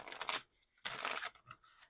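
Tarot cards are shuffled in two bursts of papery riffling and crisp shuffling, close up, separated by a short pause, with a few soft taps after.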